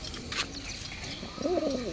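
A male pigeon at a Bagha and Sundori pigeon fair gives a short, close coo near the end, rising above a steady rustle of crowd and background noise.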